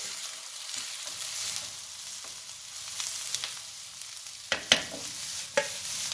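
Vegetable fried rice sizzling and being stirred in a hot pan, a steady frying hiss throughout with a few sharp scraping clicks near the end.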